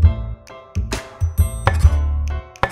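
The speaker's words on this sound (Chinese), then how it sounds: "把它剁成小的粒状。" Shelled South American white shrimp or river shrimp minced into small bits with a cleaver on a cutting board: loud, close, rapid irregular chops with sharp thuds and woody knocks, no talking.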